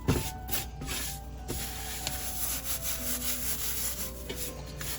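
Dried mint leaves are crushed between the hands, giving a close, dry, crackly rustling and rubbing that runs steadily with small surges and no talking.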